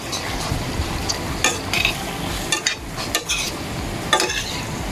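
Hot dogs frying gently in butter or margarine over a very low flame, a steady soft sizzle with occasional clinks and scrapes of a utensil stirring in the pan, close and continuous.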